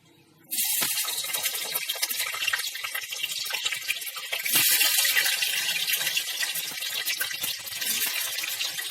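Potatoes sizzle loudly in hot oil while Kashmiri dum yam is being cooked, a steady dense crackle that bursts in suddenly and holds throughout with no talk.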